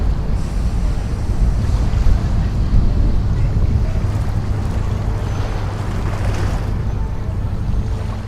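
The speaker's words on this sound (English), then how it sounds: "waves gently lapping against the shore" Waves wash against the shore of an Italian island as a steady, loud, rushing wash. Wind buffets the microphone throughout.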